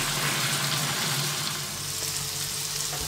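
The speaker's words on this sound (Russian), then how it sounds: "Закладываем лук. Обжариваем примерно минутки две" Onion fries in hot melted butter in a pan with a loud, continuous, close sizzle. It stays broad and even throughout, with a faint low hum beneath and no voices.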